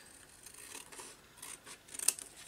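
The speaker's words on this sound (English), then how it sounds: "Actually, I think I might just trim it a little bit big." Scissors trimming a photo for a collage: soft, close snips and paper rustling, faint and quiet, with one sharper snip near the end, no talk.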